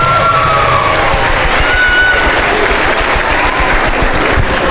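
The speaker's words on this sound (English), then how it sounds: "Let's give a flash round of applause for our elementary students." An audience at a school music concert applauds elementary students loudly and continuously, with scattered cheers and whoops mixed into the dense clapping.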